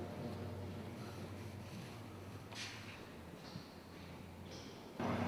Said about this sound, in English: That's the suction come on now, you can hear the suction.